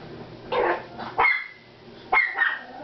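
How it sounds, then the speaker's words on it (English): A pet dog barks indoors in a kitchen, three sharp, close barks spaced about a second apart, loud and alone with no talking. "I gotta get something to get my doggy to quiet down"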